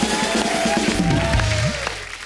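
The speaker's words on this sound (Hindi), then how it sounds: "एक बार समीर साहब के लिए जोरदार तालियां हो जाएं" A studio audience on The Kapil Sharma Show claps in a steady wash of applause for a guest, loud and continuous throughout, with music and murmuring mixed underneath.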